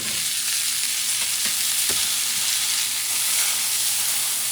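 Pork chops smoked in red wine sizzle and hiss steadily in a hot pan, a loud continuous frying crackle with faint scraping ticks, no voices.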